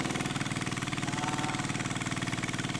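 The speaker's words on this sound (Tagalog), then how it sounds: "kaya naririnig niyo pa yung motor" A motorcycle engine runs steadily throughout, a continuous rumbling drone with a regular pulsing beat, fairly close and unchanging.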